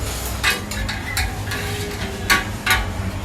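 Onions grilling on a hot plate at a Krabi night market food stall, a steady sizzle with several sharp clinks and scrapes of a metal spatula, close up and with no talk.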